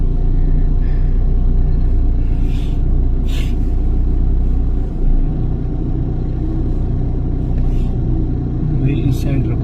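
A car crawls along a narrow, rough road beside a canal, its engine a constant low rumble with occasional knocks and creaks, and voices talking over it.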